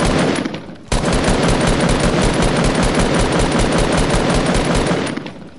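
Sustained automatic assault-rifle fire from a PS4 shooter game, a loud, rapid, unbroken burst of shots lasting several seconds after a brief quieter lead-in, then cutting off.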